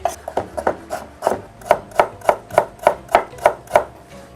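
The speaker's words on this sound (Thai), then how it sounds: "ผมมีตะไคร้ครับ ล้างแล้วเราก็มาซอย" A knife chops rapidly through lemongrass on a cutting board, about a dozen crisp, evenly spaced cuts in steady rhythm, close up with no talking.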